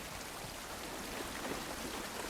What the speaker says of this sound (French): Joël, elle va nous aider à fond, la pluie.